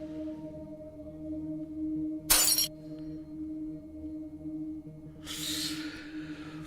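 Glass shatters in The Infectious Madness of Doctor Dekker video game, a single sharp crash standing out against a quiet droning background, followed by a softer hiss.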